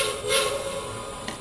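Whistle from a Lionel Bluetooth model train locomotive, a short sustained tonal blast sounding close and alone, with no talk over it.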